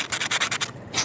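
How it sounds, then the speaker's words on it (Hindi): Sandpaper is rubbed back and forth inside a spark plug from a Suzuki Mehran car. Steady, close, rhythmic scratchy strokes repeat about five times in a second, with no voices. "इसमें आपने यहाँ अंदर भी इस तरह रेगमाल मारना है"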